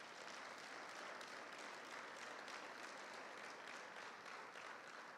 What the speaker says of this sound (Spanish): Denle un aplauso a la palabra.